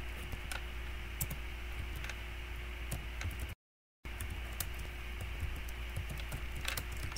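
Keys typed on a computer keyboard while searching for a Facebook cover size, a light irregular patter of clicks over steady background hiss, with one short silent gap midway.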